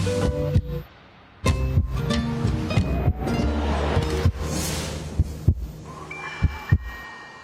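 Steady heartbeat sound effect with deep, throbbing double pulses repeating at a regular rhythm, layered over a low hum and a wash like ocean surf, loud and close with no talk.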